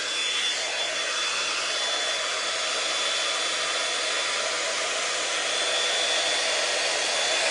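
A hair dryer blows steadily while drying and styling hair with a L'ange Multi Volume brush, a constant loud airy whoosh with a thin whine and no breaks or speech.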